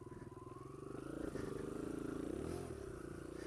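A Kawasaki KLX140L dirt bike is ridden, its engine holding a steady buzzing drone that rises a little and settles again, heard fairly quietly with some rumble and rattle.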